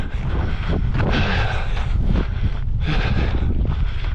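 Wind buffets a microphone outdoors during a recovery walk, producing loud, uneven low rumbling gusts that rise and fall continuously with no speech.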